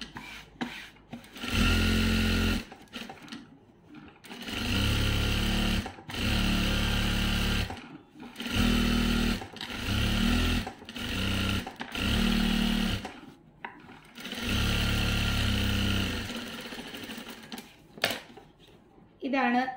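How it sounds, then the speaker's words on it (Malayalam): Electric sewing machine stitching fabric, running in repeated bursts of a few seconds each with short pauses between, loud and close. "നല്ല രീതിയിൽ തന്നെ ചുളിവില്ലാതെ നമ്മൾ സ്റ്റിച്ച് ചെയ്തെടുക്കാം"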